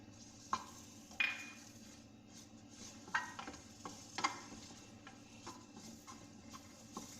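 Butter melting in a pan with light sizzling while a spoon stirs and scrapes, several distinct sharp clinks against the metal over a low steady hiss.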